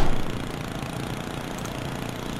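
A lawnmower engine in the game Happy Wheels drones at a steady, loud idle with a rough, pulsing chug and no talk.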